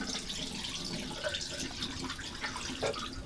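RV antifreeze poured into a sink drain during winterizing, a steady close liquid rush and gurgle into the basin lasting throughout, with small splashy drips and no talking.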